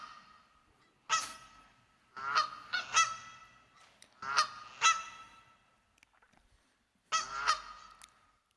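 Recorded bird calls played back as a clip on a monitoring dashboard: a series of loud, harsh honking calls in uneven bursts, separated by silent gaps, with no talk.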